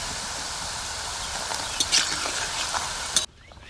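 Pieces of homemade nimki dough deep frying in hot oil while being stirred, a steady bubbling sizzle with occasional scraping strokes, ending abruptly near the end, no talk.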